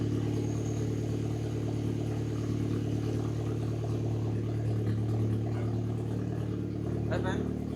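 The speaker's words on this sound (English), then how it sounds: "I feel like that's the first time I hear an engine in a long time." A car engine fitted with a homemade custom exhaust idles steadily with a low, constant rumble, and faint voices can be heard in the background.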